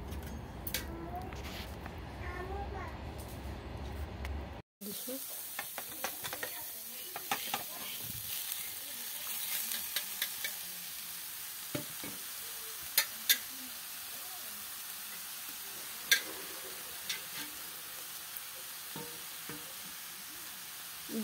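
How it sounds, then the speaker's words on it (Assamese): Grated coconut fries in a wok, giving a steady soft sizzle with scraping stir strokes and a few sharp clinks, heard alone after a brief quieter opening. "এতিয়া নাৰিকলখিনি ভাজিম"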